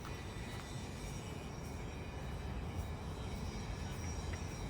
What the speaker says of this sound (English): This is one of the newer subway stations in Moscow.